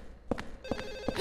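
A telephone in the video game Silent Hill 4 rings in three quick electronic bursts, evenly spaced and fairly close, with no talking over it.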